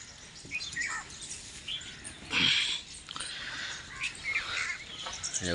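Sparrows chirp in short, scattered bursts around a home in the morning, some calls loud and close and others fainter, with no talk over them.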